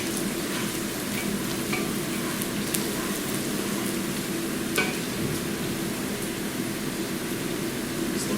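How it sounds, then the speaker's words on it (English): Garlic and bay leaves sizzle steadily in a pot for chicken noodle soup, a dense continuous frying hiss with a few faint spoon taps. "That garlic and bay leaf cook in there for about a minute."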